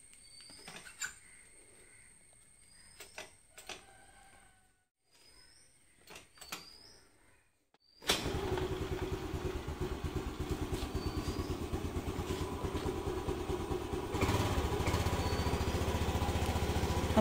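A motorcycle is kick-started from cold after sitting for a week: a few clattering kicks, then the engine catches on the second kick and idles loudly and steadily close by.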